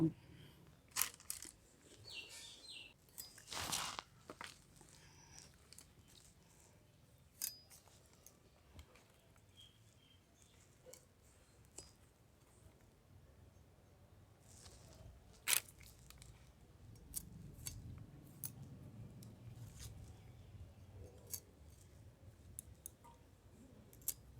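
Vegetables, likely eggplant for a spicy brinjal dish, being cut on a board: scattered, faint, sharp clicks and snips spaced irregularly against quiet room background, with one louder crunch early on.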